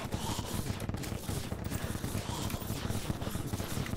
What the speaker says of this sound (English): All I hear are the sounds of explosions.